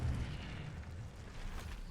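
Incendio fire spell cast in Hogwarts Legacy, a short, low rumbling burst of flame that stays fairly steady and muffled for about two seconds, with no voices over it.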